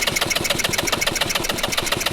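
Small minibike engine running at a fast, steady idle, its rapid even chuffing pulses loud and close with no voices over it.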